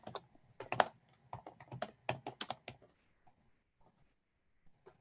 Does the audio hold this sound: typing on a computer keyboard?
yes